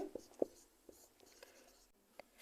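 Pen or chalk scratching out figures during a Class 10 maths lesson, a few short soft strokes and taps at a quiet, close level with no talk.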